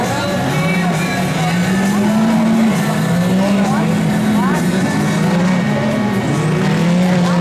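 Side-by-side 2x4 off-road vehicles race an obstacle course at a qualification event, their engines droning loudly and steadily with rising and falling revs, while a commentator talks over the noise throughout.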